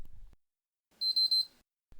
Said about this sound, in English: You'll immediately get 3 beeps from the console and a flashing red standby light